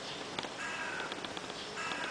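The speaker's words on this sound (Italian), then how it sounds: "Li sono mangiati delle cornacchie, Margherita." Crows cawing outdoors, a few faint, distant calls repeating at irregular intervals over a soft background hiss, with no one speaking.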